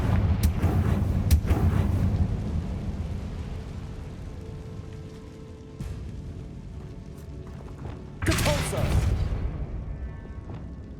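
Fiery blasting spells in the Hogwarts Legacy video game burst in loud booming explosions, several sharp hits early and another heavy burst later, over game ambience with a voice speaking in between.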